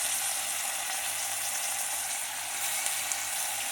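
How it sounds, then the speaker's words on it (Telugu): Basmati rice frying in a pan while being gently stirred gives a steady, close, hissing sizzle that holds at an even level for several seconds, with no voices. "ఇప్పుడు దీంట్లో రైస్ కూడా వేసి వేయిస్తారండి 2 నిమిషాలు"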